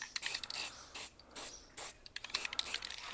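Short bursts of aerosol spray paint hiss onto a Jaguar XKR rear brake caliper as a light dusting coat, with about seven close, evenly paced pulses and no talking.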